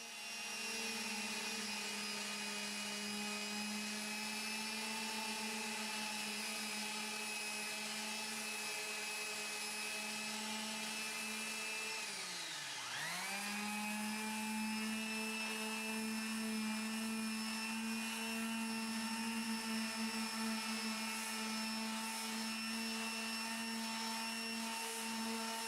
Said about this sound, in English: I just want to sand the inlay until it's flush with the surrounding surfaces